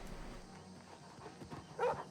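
A dog in the video game Elder Scrolls IV: Oblivion gives a single short bark near the end, faint and set against quiet game background sounds.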